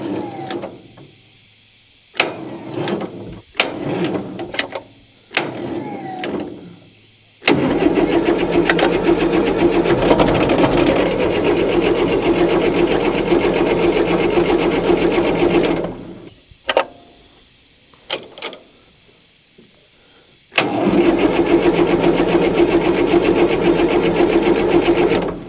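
A 1960 Massey Ferguson FE35 tractor's 4-cylinder engine cranks in several short bursts, then in two long sustained grinding spells, close and loud, without catching, with quiet gaps between attempts.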